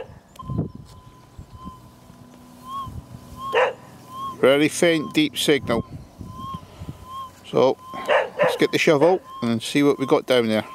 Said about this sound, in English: Sorry about the dogs, but right next to the farm kennels with all the nice collies and Labradors,